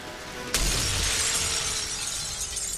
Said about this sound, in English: He turns and he just makes a beeline for the big glass window.